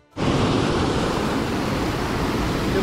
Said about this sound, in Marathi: इथून जे पाणी येते ते असं पूर्ण वाहत